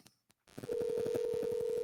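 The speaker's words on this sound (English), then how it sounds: "We're going to get him on the phone." Phone call being placed to a Keystone RV factory rep: a couple of faint clicks, a brief pause, then a steady run of rapid, evenly spaced dialing tones over a sustained tone, loud and close.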